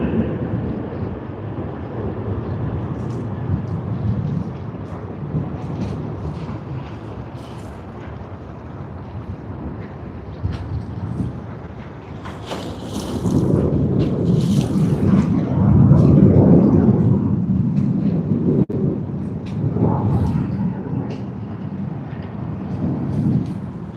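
Virgin Australia airliner at Sydney Airport during early morning peak hour, a deep rumbling jet roar that builds and swells to a loud peak midway before easing, heard from a distance with no talking.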